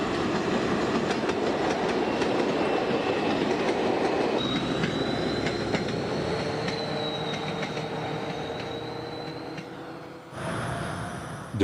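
An SNCF BB 66000 diesel locomotive hauls a train past, filmed at Miramas depot in 1980: a close, continuous rumble of rolling wagons with long squealing wheel tones and rhythmic clickety-clack, ending in a sudden cut.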